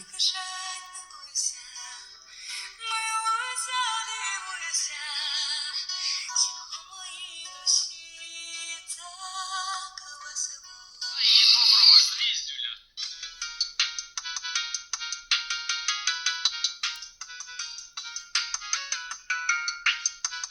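A bright electronic melody plays from a small, tinny smartwatch speaker (Haylou Iron N1), with steady repeated notes in the latter half after a busier opening passage.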